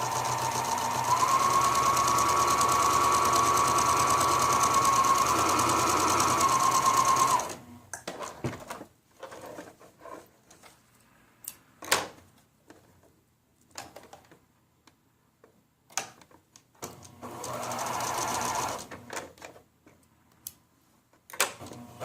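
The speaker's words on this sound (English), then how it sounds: "And sew 1/4 inch on either side," A sewing machine runs steadily for several seconds, stitching a quarter-inch seam on quilt blocks, then stops, leaving scattered handling clicks and a brief second run.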